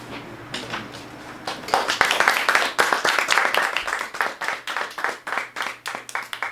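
A lecture audience breaks into applause at the end of a talk on Junggoje traditional Korean music, starting softly then swelling into steady, rhythmic clapping that continues to the end.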